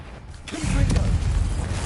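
In Hogwarts Legacy, a Confringo blasting spell lands after a brief creaking, mechanical lead-in, then breaks into a loud, sustained low rumbling burst that stays strong to the end.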